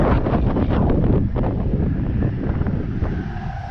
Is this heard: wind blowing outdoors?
yes